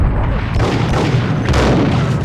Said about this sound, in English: I saw him throw his own grenade.